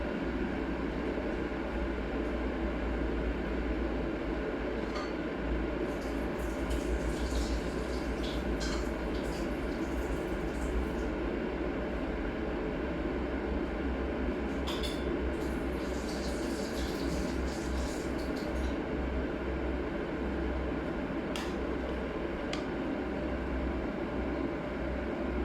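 A Goto Sola 800W electric kettle heats 1.5 litres of water with a steady rumbling hiss that holds an even level, broken by a few faint ticks and crackles. No voices are heard.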